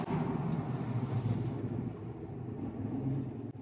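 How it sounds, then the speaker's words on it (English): Exhaust of a GM truck with cylinder deactivation slowing to a stop, a low, throbbing rumble heard up close with wind noise that holds steady and swells slightly near the end. "hopefully you can hear the exhaust as I come to a stop"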